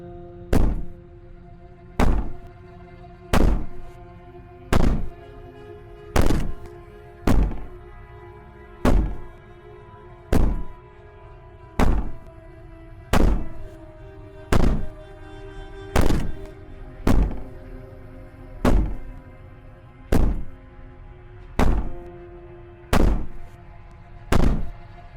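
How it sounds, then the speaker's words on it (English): Heavy, evenly spaced bangs pound in Slay the Princess, roughly one every second and a half, each a deep booming thud, repeating over twenty-odd seconds with no voices. "Maybe the banging and wailing will stop if you just don't pay attention to it."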